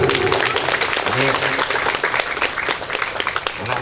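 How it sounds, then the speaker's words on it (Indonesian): An audience at a graduation ceremony for Quran memorizers at an Islamic boarding school applauds steadily, a dense patter of clapping that runs under someone speaking over a loudspeaker. "tepuk tangan dulu."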